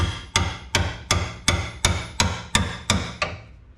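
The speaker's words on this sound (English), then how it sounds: "I'm gonna take this pointy pry bar and start hammering it into this hole" Ten sharp metallic hammer strikes on a pointy pry bar driven into a hole during a Duramax front end rebuild, in a steady rhythm, each ringing briefly, close and loud with no talk.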